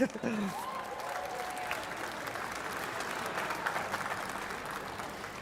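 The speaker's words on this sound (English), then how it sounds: "yes, applause" Applause from a crowd at a Fourth of July celebration at the National Archives, a steady, moderately distant roar of clapping sustained through the whole stretch.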